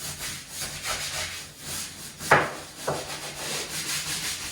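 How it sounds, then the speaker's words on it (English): A stiff scrubbing brush rakes back and forth along the grout joints of wet room floor tiles. The strokes come close and repeated as a soft, rhythmic scratching, with two sharper scrapes partway through. "lean into the brush and let the bristles go straight into the grout joint and really rake out any dirt"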